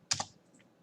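A computer keyboard gives two quick, close key clicks in a fraction of a second while an IP address is entered, followed by quiet.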